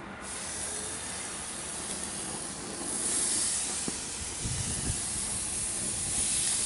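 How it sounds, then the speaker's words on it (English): Venison ribs coated in a dry rub hiss on a hot grill, a soft, even sizzle that swells slightly partway through. "now we're just going to throw these on the grill"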